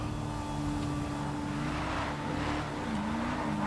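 A Declasse Drift Walton L35, a drift-tuned pickup in GTA Online, drives with a steady engine drone and a sustained tonal whine that bends in pitch near the end, holding constant loudness throughout.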